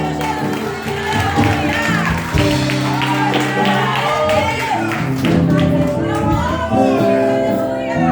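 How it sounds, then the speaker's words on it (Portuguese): Church congregation at a deliverance service clapping and cheering together, a busy crowd wash of hands and voices with shouts and children's voices, layered over sustained keyboard chords and singing. "aplauda o nome do Senhor"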